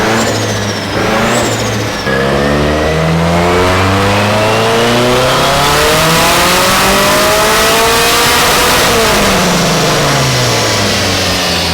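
A car engine on a dyno revs hard and climbs steadily in pitch, a loud sustained roar with layered harmonics that holds near peak and then eases slightly. Nobody talks.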